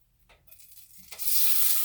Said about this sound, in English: You hear that sizzle? That is what you want.